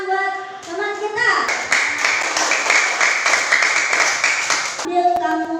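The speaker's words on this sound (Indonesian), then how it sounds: "Tepuk tangan buat teman kita." A classroom of students claps for a classmate, a dense burst of applause lasting several seconds, framed by a teacher's voice speaking before and after.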